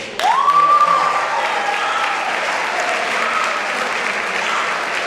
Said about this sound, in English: the student athletes need to give them a round of applause